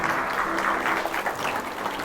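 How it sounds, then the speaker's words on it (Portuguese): A room full of people clapping steadily at a church service, a dense continuous applause at moderate loudness. "Vamos dar uma salva de palmas para Jesus?"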